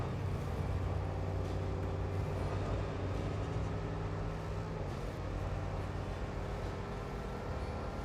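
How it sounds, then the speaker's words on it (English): Low, steady engine rumble of a heavy vehicle in a British Columbia driving game, a continuous hum with harmonic tones holding evenly for the whole stretch, no voices over it. "I love the engine sound on this as well."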